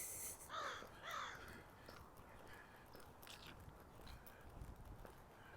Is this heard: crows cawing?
yes